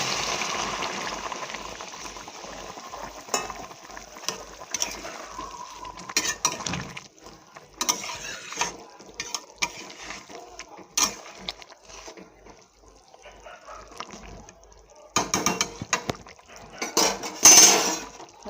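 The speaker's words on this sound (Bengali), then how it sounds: "গ্যাসটা বাড়িয়ে দিয়ে দেবো জল এটা গরম জল" Hot water is added to a kadai of rohu fish curry on a gas stove, amid clattering utensils and metal scraping, with a louder hissing, splashing burst near the end.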